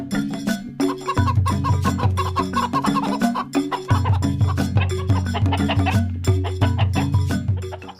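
Chickens cluck repeatedly as a man feeds a flock, layered over steady background music that runs throughout at a moderate level.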